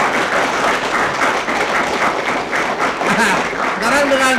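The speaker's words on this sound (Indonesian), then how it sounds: "Tepuk tangan." A studio audience at a comedy talk show claps in a steady, dense round of applause, with voices speaking over it toward the end.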